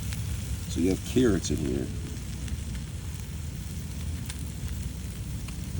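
Korean kalbi beef with carrots sizzling in a pan, a steady low crackling fry running throughout, with a person talking briefly over it near the start.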